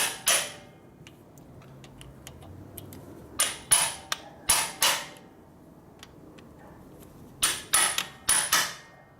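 A hammer strikes a hand impact driver to free screws on a 1970 Harley-Davidson XLCH Ironhead Sportster bobber build, giving sharp metallic blows in short clusters of two or three with quiet gaps between, close and with no speech.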